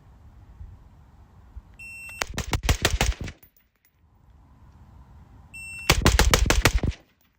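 Suppressed gunfire from a Radical Defense MK1 PDW, two quick strings of about six rapid shots each, loud and close, each string preceded by a shot-timer beep and followed by quiet.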